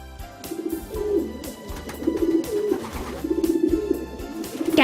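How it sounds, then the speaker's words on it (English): A pigeon coos in several soft, rolling phrases repeating throughout, set against a steady background music bed, with no talking. "Pigeon"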